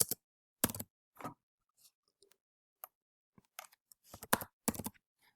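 Quiet, scattered keystrokes on a computer keyboard come in irregular small clusters separated by silent gaps, with no speech.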